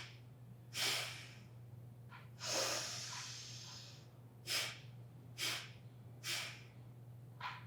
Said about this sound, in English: take 3 mini exhales